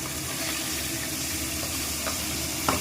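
Pabda fish frying in hot oil for a tel jhal curry, a soft steady sizzle with faint bubbling and a small clatter near the end, no talking.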